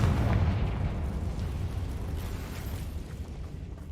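Confringo fire spell explosion in the video game Hogwarts Legacy, a loud, deep roaring blast that rumbles and slowly fades over several seconds.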